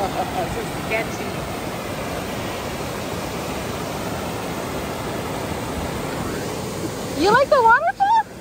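Steady broadband rush of a waterfall on a mosquito-filled forest trip near Azusa and Sequoia, continuous and fairly close for most of the span, then voices and excited talk break in near the end.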